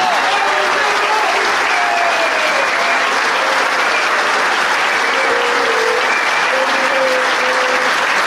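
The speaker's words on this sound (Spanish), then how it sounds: "Un aplauso grande para él." A large crowd applauds continuously and loudly for Guillermo Moreno at a La Fraternidad union event in Argentina, a dense roar of clapping that holds steady throughout with some voices mixed in.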